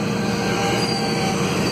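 Freight train wheels squeal against the rails at the end of a locotrol manoeuvre in a rail yard, a loud, steady metallic screech with a rumble underneath.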